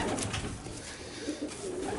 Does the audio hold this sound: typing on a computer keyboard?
no